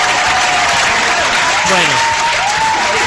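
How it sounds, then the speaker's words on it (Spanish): Canned applause played on a radio show, a steady wash of crowd clapping that runs throughout while a voice speaks briefly over it. "¡A ver ese aplauso!"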